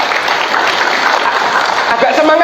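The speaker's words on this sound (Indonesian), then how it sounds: "tepuk tangan untuk ibu-ibu yang di belakang" The fathers at a parenting seminar give a dense, steady round of applause for the mothers seated at the back. The clapping fills the room, and a voice comes in near the end.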